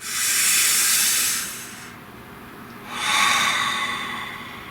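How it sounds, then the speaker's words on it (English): A long, deep breath drawn in, held, then slowly let out, each phase a broad airy hiss that swells and fades, close to the microphone with a short quiet gap between, no talk. "Nice deep breath."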